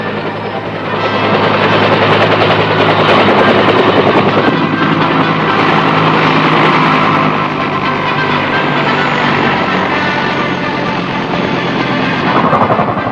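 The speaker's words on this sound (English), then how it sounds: "helicopters touch down on landing pads and bring in the precious cargo" A loud military helicopter thrumming steadily overhead as it lands on a landing pad, rotor noise and engine roar filling the air for the whole stretch, close and heavy.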